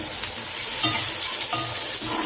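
Onions sizzle loudly in a frying pan, close and continuous, with soft stirring scrapes over the hiss.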